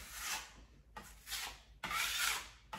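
A hand scraper drags gently across wall filler in three long, rasping strokes with short pauses between them, close and quiet.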